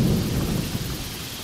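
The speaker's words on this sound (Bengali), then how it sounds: "চারিদিকে অঝরে বৃষ্টি হচ্ছে, তার সাথে মুহুর্মুহুর বজ্রপাত।" Thunder rolls through a heavy rainstorm as a ghost-story sound effect, a brief deep rumble that fades within about a second over a hiss of rain.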